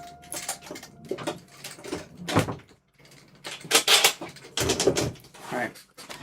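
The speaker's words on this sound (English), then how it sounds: "if you hear thudding in the background, it's my door" Several dull thuds and knocks, like a door banging, sound amid irregular background clatter and shuffling.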